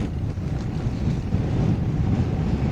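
Strong wind buffets the microphone while cycling along rural gravel roads, a continuous low, rumbling roar with gusty swells and no voices.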